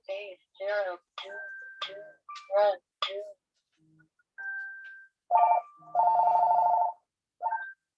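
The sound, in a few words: phone ringing during a video recording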